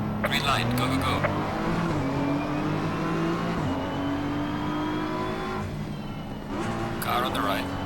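BMW M4 GT3 race cars in the Assetto Corsa game accelerate at the start of a multiplayer race at Silverstone, engines revving hard through rising gear changes as nearby cars roar alongside.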